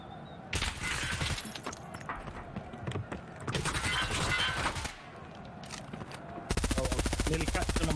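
Rapid gunfire from a competitive first-person shooter esports match on the map Bowl, sounding in repeated bursts of automatic shots with a dense volley near the end, under casters' commentary.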